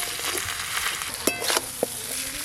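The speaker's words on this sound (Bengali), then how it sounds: "ভেজে রাখা কাঁটাগুলো দিয়ে দেবো। খুব ভালো করে মশলার সঙ্গে মিশিয়ে নেব।" Fried Bhetki fish bones are stirred into spice paste in a pan, giving a soft continuous sizzle with scraping stir strokes and a couple of sharp clicks of the spoon against the pan.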